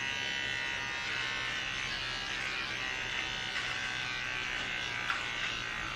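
Electric hair clippers buzz steadily and close up while cutting an undercut, a continuous strained whine that struggles without pausing and has no talking over it.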